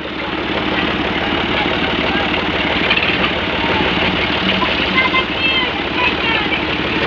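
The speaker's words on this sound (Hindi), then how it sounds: "तू चला किधर ट्रैक्टर" A tractor engine running steadily at idle, a loud continuous low rumble with a mechanical knocking texture that holds without a break.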